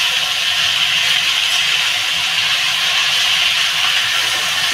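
Leafy greens frying in a pan, a steady, loud, even hiss of sizzling oil that holds unchanged from start to finish with no talk.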